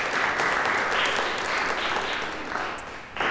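An audience at a lecture on Kashmir gives a round of applause, a dense, sustained wash of many hands clapping that thins slightly toward the end, then rises briefly again.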